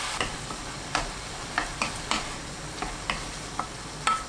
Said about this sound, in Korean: 당근과 잘게 썬 애호박 넣고 센 불로 바꿔서 1분 볶습니다.